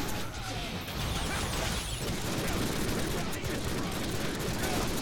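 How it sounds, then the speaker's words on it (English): Dense, continuous rapid gunfire from a Deadpool video game, loud and steady throughout with crackling bursts, and faint voices underneath. "the gunfire really only depends on my trigger speed"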